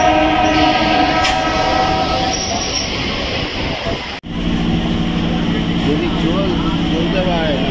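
A train pulls into Ranaghat station, its steady rumble and rolling carriage noise filling the scene at close range with a brief dip midway, while people talk over it.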